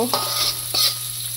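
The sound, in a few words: dried fish (chepa shutki) bhorta being stir-fried in a pan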